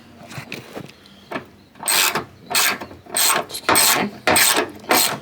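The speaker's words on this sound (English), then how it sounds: "we're just snugging down the bolts for the antifreeze tank" Ratchet wrench snugging down 10 mm bolts on the antifreeze tank of a Chevy S10, heard as several loud, close bursts of rapid ratcheting clicks separated by short pauses.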